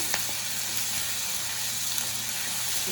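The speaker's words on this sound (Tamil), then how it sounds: "இஞ்சி உண்டு பேஸ்ட்டு ரெண்டு டேபிள் ஸ்பூன் எடுத்துருக்கேன் இதை ஆட் பண்ணிக்குவோம் நல்லா கலரி விட்டுக்கலாம்" Ginger garlic paste sizzles steadily in a hot pan while being stirred for mutton chukka, a continuous close frying hiss with soft scraping, no voices.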